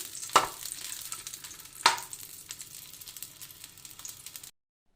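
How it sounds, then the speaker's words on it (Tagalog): Hot dogs fry in a pan at breakfast, a steady close sizzle broken by two sharp clatters near the start, then a softer crackle until it cuts to silence. "Then we will fry the hot dogs for a minute or two."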